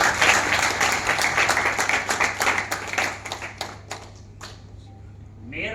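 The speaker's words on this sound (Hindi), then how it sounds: "मैं चाहता हूं जोरदार ताली से।" An audience applauds to welcome the newly elected mayor of Sonipat at a ceremony in Rewari, a burst of dense clapping that thins into scattered claps and fades out.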